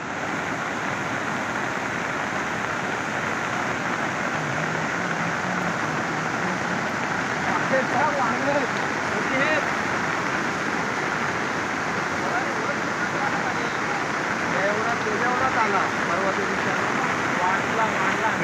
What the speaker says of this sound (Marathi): पावसाचा जोर पण वाढतोय ना रे त्यामुळे हा बघ हा फोर्स आला रे